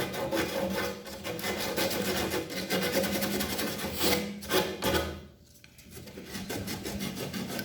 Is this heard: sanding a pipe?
yes